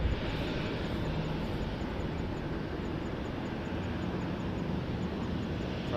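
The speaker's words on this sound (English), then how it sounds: "first up, A330-300 Star Alliance livery" An Airbus A330-300 in Star Alliance livery at Montréal-Trudeau Airport produces a dense, steady jet engine roar with a low rumble underneath, sustained and fairly distant.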